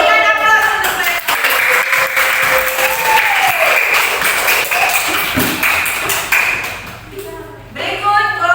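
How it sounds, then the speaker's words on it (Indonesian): A classroom group of teachers-in-training claps after a presentation, sustained applause filling most of the clip and tapering off near the end, with a voice briefly heard over it. "Berikan aplaus untuk mereka."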